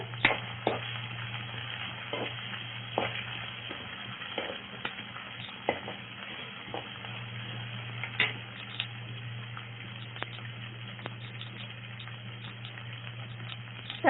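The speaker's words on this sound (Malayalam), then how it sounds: "അല്പം തക്കാളി എന്നിവ ചേർത്ത് നന്നായി വഴറ്റുക" Tomato and onion sautéing in a pan for mushroom masala, a steady close sizzle with frequent sharp scrapes and taps of a spoon stirring, no talking.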